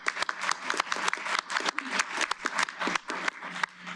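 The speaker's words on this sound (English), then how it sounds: "Please give them a round of applause." A crowd at a formal agency event applauds continuously, with dense, steady clapping that holds at an even level from start to finish.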